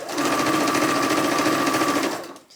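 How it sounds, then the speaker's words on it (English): A sewing machine runs steadily for about two seconds, stitching the side seams of a blouse, its fast even whir holding close and loud before stopping abruptly near the end. "So I'm going to stitch these sides together."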